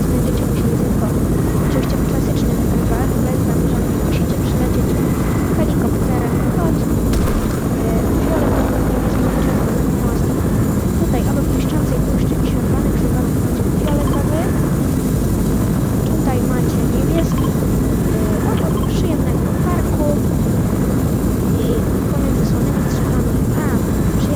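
A steady, droning helicopter engine hum from a video game continues throughout, dense low rumble with faint game effects on top, no pauses.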